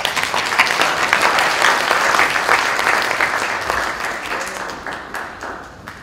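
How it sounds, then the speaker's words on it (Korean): Audience applause in a hall welcoming a speaker at a Korean missions conference, a dense, sustained clapping that holds steady for several seconds and then gradually thins out toward the end. "박수로 맞이하겠습니다."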